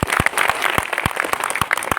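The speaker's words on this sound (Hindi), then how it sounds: "उनके लिए एक बार तालियां मार दो पहले" A small audience claps for children who have just performed at a local program, with distinct separate claps spaced through a steady murmur, close and fairly loud.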